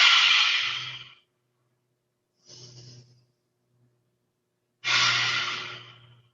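Breath of fire during a yoga practice: three separate bursts of forceful breathing, loud and close, the first and last long and strong, a shorter, softer one between them, with silent pauses in between.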